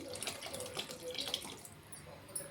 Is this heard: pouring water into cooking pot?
yes